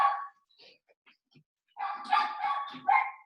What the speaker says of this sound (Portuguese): que o cachorro está latindo.